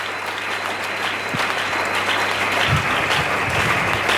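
Loud, sustained applause from a large audience at a French-language religious gathering, dense clapping filling the whole stretch without pause.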